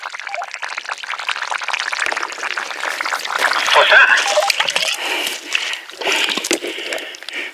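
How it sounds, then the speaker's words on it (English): Water gushes out of a hose pipe into storage tanks with a continuous splashing, sloshing rush close by, rising in the middle, while people talk over it. "What, coming out of the pipe? Yeah, the hose pipe at the top."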